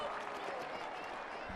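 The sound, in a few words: crowd applauding at a women's hockey match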